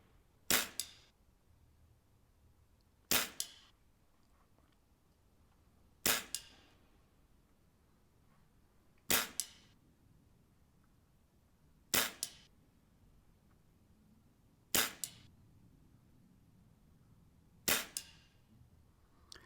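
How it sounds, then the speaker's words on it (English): Vintage Britannia bullpup spring air rifle fired outdoors, seven sharp cracking shots spaced about three seconds apart, each a crisp snap with a brief metallic ring, quiet in between. "I've edited out the loading of the rifle for the last few shots."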